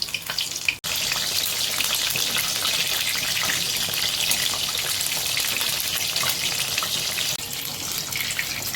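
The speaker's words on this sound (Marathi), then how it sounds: "आपण दोन्ही साईडनं छान लाल कलर येईपर्यंत तळून घेऊया." Soybeans frying in a small amount of hot oil until crisp, a steady dense sizzle that holds loud and continuous from start to finish after a brief break near the beginning.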